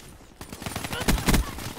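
Rapid automatic gunfire in a first-person shooter video game, a dense, loud burst of shots with two heavier blasts near the end, packed into under two seconds.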